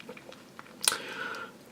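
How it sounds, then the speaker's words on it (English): Someone bites into a Snickers bar with crunchy peanut bits and chews, giving a sharp crisp bite followed by soft close-up chewing, with no speech. "Oh, I've got to have another bite."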